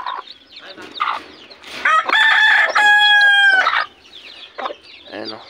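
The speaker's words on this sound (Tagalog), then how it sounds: "itong mga sisiw natin nagkalabasan na." Chickens and newly hatched chicks close by, a rooster's loud drawn-out crow rising over steady clucking and cheeping, with no talk.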